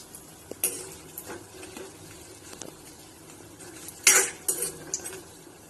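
Fried pakoras being strained out of hot oil make metal-on-metal scrapes and clinks, with a sharp clatter near the end, over a faint low bubbling of oil and no talking.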